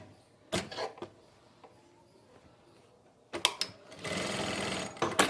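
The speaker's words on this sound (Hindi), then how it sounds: "इस सिलाई के ऊपर से हमें मशीन लगा लेनी है" A sewing machine stitches a farshi shalwar in short separate bursts, first a few quick runs and then a longer steady whirring run close by, with clicks and handling of the fabric between.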